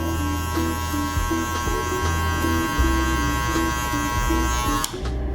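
Electric hair clippers buzz steadily while cutting a taper fade, a close, continuous motor hum with a regular pulsing as the blade passes through hair, then a brief click near the end.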